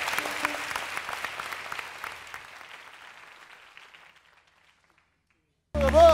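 Studio audience applause for a band on a Turkish TV talk show, a broad burst of clapping that fades steadily to silence over about four seconds before a loud voice cuts in at the end.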